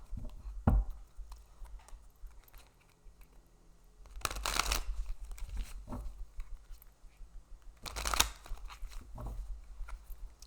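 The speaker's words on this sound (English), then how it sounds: "So going to give these cards a quick shuffle" A deck of tarot cards is shuffled close by in two short riffling bursts with faint handling and tapping between them, and no talk.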